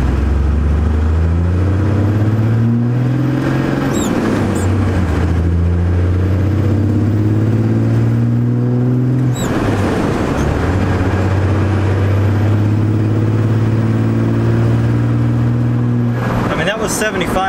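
A 12-valve Cummins diesel pickup truck engine with a 5-speed roars steadily, its pitch climbing through several gear shifts as the truck accelerates, loud and close, with talk faintly underneath.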